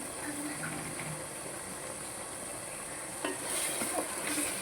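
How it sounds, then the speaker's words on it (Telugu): Onion and tomato masala frying in oil for a spiced brinjal curry, a steady soft sizzle throughout with faint stirring clinks, growing slightly louder and busier near the end. "బాగా ఆయిల్ ఫ్రై అవ్వాలన్నమాట"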